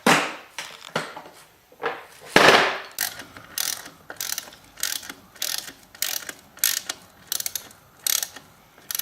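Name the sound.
socket ratchet removing motorcycle shock linkage bolt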